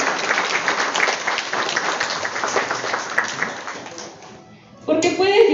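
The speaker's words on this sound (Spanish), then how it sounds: "Brindemos un fuerte aplauso, por favor" Applause at a school graduation ceremony in San Pedro Mixtepec, with a crowd clapping steadily for about four seconds, dying away, then a voice begins speaking.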